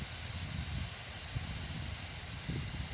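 Air hisses steadily out of a car tire being deflated for plugging, a close, continuous breathy rush with a few faint low knocks underneath and no talking.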